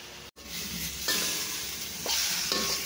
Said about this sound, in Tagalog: At igigisa na natin ating karne.